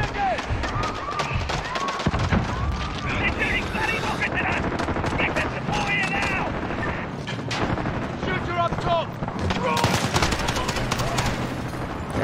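Rapid bursts of gunfire in a Call of Duty Modern Warfare match on the Piccadilly map, dense and continuous with overlapping automatic fire and shots near and far, a voice talking over the shooting throughout.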